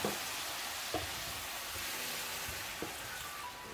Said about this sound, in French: Une fois que mes lardons ont craché leur gras et qu'ils sont saisis